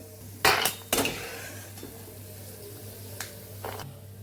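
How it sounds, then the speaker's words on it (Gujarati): Freshly fried peanuts being scooped from a frying pan into a dish: two sharp metallic clatters of a utensil against the pan near the start, then a couple of softer scrapes and clinks over a steady low hum. "તો અહીં આપણા માંડવીના બી સરસ તળાઈ ગયા છે તો ડીશની અંદર આપણે બહાર લઈ લઈશું"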